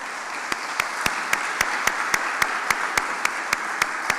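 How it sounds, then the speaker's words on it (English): An audience at a health equity event applauds continuously, a dense wash of clapping with one sharp, evenly spaced clap standing out roughly every quarter second. "Give him a round of applause."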